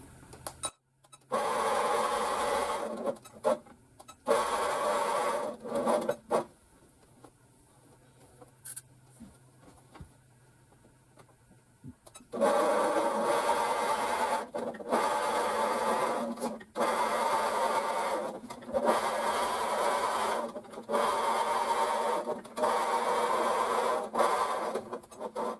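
A sewing machine stitches quilt fabric in bursts of steady, close whirring, several runs of a few seconds each, separated by pauses and a longer quiet stretch.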